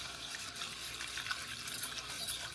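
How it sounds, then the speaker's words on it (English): Milk pours into a pan of country gravy made for fried steak, a faint, steady liquid trickle and splash close by, continuous for a few seconds with no voices. "now I'm going to pour in the milk"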